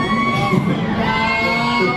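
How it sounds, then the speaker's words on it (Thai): Fans screaming at a ZeeNunew (Zee Pruk and Nunew) event, a sustained, dense crowd shriek that stays loud and steady throughout with shouting and whoops mixed in. "เสียงกรี๊ด"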